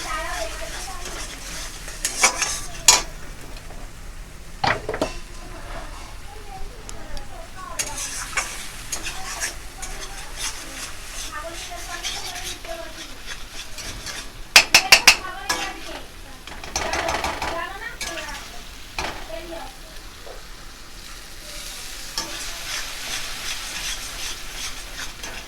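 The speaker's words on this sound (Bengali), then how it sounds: "এটাকে আমরা ভালো করে কষিয়ে নেব।" Coconut spice masala frying in oil in a pan for a coconut and pointed gourd dish, with a steady sizzle under continuous scraping and stirring strokes and occasional sharp utensil clinks, close by and sustained.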